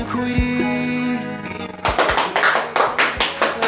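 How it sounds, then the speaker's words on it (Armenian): People clap a quick steady beat in a hospital room, sharp close claps in even rhythm following a moment of sung music. "ռիթմիկ ծափեր են"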